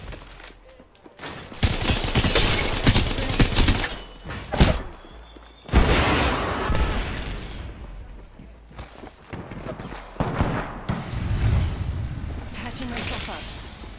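Rapid R99 submachine gun bursts and explosions in Apex Legends, loud and close, come in several separate volleys with short gaps and thuds between them.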